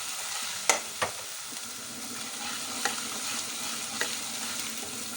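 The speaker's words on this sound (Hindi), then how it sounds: "और इसको भून लेंगे, यानी कि कच्चापन दूर कर देंगे इसका।" Ginger garlic paste fries in a hot pan with a steady crackling sizzle, punctuated by a few sharp scrapes and taps of stirring, loud and close with no voices.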